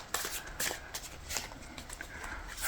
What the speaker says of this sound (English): I'm gonna shuffle some tea leaves here